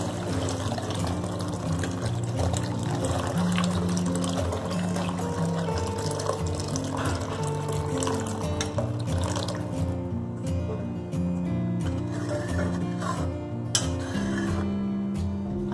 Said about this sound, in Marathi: आता आपल्याला त्याच्यामध्ये पाणी टाकायचंय.